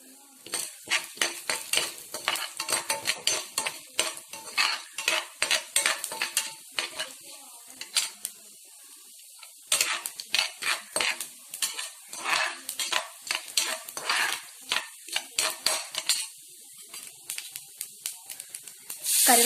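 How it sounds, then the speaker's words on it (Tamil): Urad dal, cumin and chana dal frying in hot oil for a spicy millet kozhukattai: a steady close sizzle broken by rapid, repeated spoon scrapes and metal clinks against the pan, with no voices. "எண்ணெய் சூடானதும் உளுத்தம்பருப்பு, சீரகம், கடலைப்பருப்பு எல்லாமே சேர்த்துக்கலாம்"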